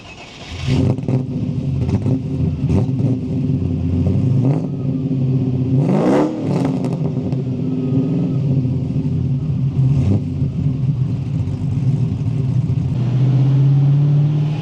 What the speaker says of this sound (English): It does have a very nice rumble to it with that stainless big bore system on it.